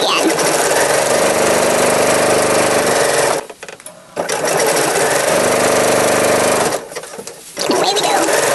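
Close, loud sewing machine stitching a drawstring bag seam in two long bursts, each broken by a brief pause as the needle halts, with a voice talking over the motor.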